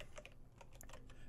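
Quick, faint typing on a computer keyboard, a short burst of close key taps in an uneven rhythm with no voices.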